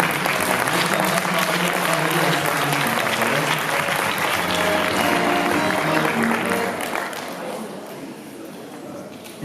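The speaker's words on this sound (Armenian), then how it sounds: "իրենց էլ ուզում եմ առանձին դեր ծափահարենք" Audience applause at a closing ceremony of EWoS Armenia 2021 in Stepanavan: dense, sustained clapping from a large crowd that continues steadily and then eases off near the end.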